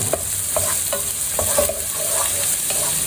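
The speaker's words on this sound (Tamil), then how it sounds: "ஒரு நிமிஷம் வதக்கிடுங்க" Vegetables for a one-pot pulao sauté in a pot, with rhythmic scraping stirs recurring over a soft, constant sizzle, close up and without talk.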